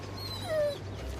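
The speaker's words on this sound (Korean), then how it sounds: "그때 소녀에게 다가온 댕댕이 한 마리" A dog gives a short, high-pitched whimper, a thin whine sliding downward, fairly quiet over a low background hum.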